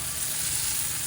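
Smash burger meat sizzles on a hot camp griddle, a steady, close, unbroken frying hiss with no voices.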